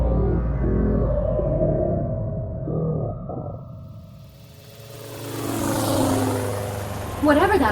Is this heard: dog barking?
no